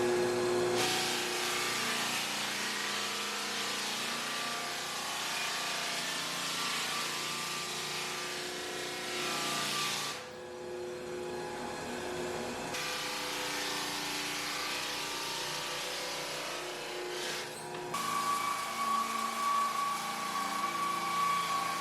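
A drum floor sander runs continuously through a hardwood floor refinishing job, a loud steady mechanical roar with a brief dip partway through and a tonal hum rising near the end, with no talking.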